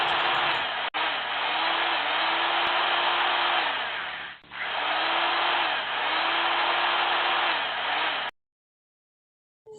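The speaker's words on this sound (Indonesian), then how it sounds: "Ayo kita bersihkan kumannya dengan vakum." Cartoon vacuum cleaner cleaning a toilet, a loud steady whoosh with a faint wavering tone that drops out briefly twice before stopping abruptly.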